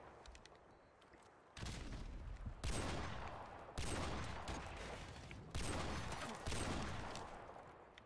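Dense gunfire from a shooter video game, a sustained roar of rapid shots rising in several heavy surges, faint at first and then loud, with no talking.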